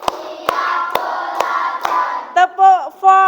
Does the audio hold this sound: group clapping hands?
yes